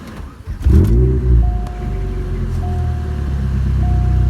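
A 2005 Chevy Cobalt SS engine, check engine light on, starts with a loud rev, then settles into a steady, deep idle that hums on close by with a faint whine.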